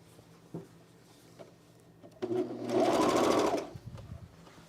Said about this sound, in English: let's sew our back waistband onto the back bodice